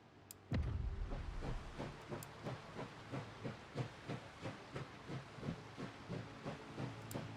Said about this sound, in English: So now the train is moving.